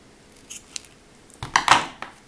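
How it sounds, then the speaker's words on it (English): Scissors snip through crochet yarn while fastening off a coin purse project: a few light clicks, then two or three crisp close cuts in quick succession. "cut our yarn"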